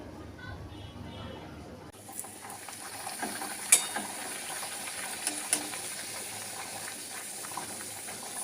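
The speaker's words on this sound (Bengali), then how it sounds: "চলো এখন লুচি ভাজতে আরম্ভ করে দিয়েছি কোনোটা ফুলছে কোনোটা ফুলছে না" Luchi, puffed flatbreads, frying in hot oil, giving a steady low sizzle and stirring noise through most of the stretch with a few sharp clinks. Faint background sounds are present.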